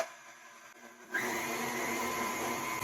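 An electric hand or stand mixer kicks in partway through, beating gluten-free brown butter oatmeal chocolate chip cookie dough on a low speed, a steady close whirring drone that holds evenly after a quiet start.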